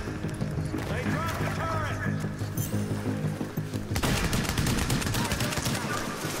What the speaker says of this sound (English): He's right, a machine gun right on the side of y'all.